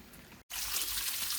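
Water runs steadily to fill a backyard koi pond, a soft continuous hiss and splash that briefly cuts out and then returns stronger.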